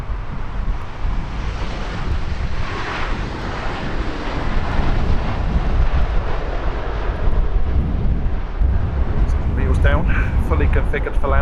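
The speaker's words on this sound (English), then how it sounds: "configured for landing, in from LAX. This is British Airways flight 268." A British Airways airliner inbound from LAX roars past on its landing approach at Heathrow Airport, loud and close, its engine noise mixed with heavy wind buffeting on the microphone, while people talk over it.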